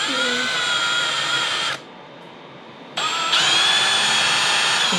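Power drill boring a ferrule hole with a long bit for a guitar bridge, loud and close, whining steadily, stopping for about a second and then spinning back up.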